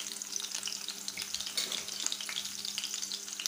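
Green chillies sautéing in hot oil for a Marathi sago khichdi dish, a steady close crackling sizzle with faint stirring scrapes, heard alone without speech.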